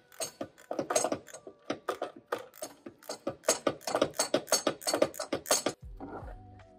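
Ratchet wrench removing a bolt from the loader valve bracket of a Kubota tractor: a close, steady run of quick clicks, about twenty-five strokes, ending with a short metallic clunk.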